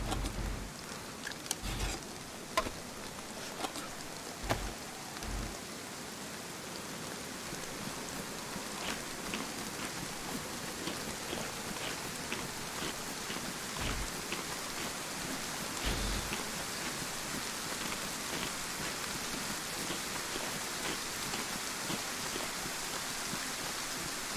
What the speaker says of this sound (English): In the UK, today's the first day you've noticed it rained for a while.